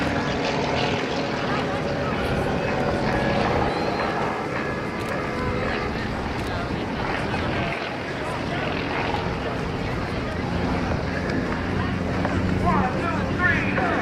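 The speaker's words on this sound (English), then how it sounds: "This is a rotary engine, ground engine we call it, in the Yak-50." A steady, loud drone of a Yak-50 aerobatic plane's radial engine runs continuously without a break, with a rough, buzzing tone throughout.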